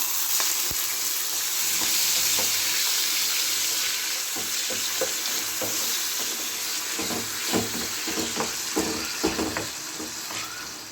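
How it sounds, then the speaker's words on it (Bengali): Chicken liver and gizzard fry lightly in a pan with a little salt, a continuous close sizzle that later breaks into irregular crackles and stirring clatters, with no voices. "একটু মেটেটা সমারটা একটু ভেজে নেব হালকা করে একদম।"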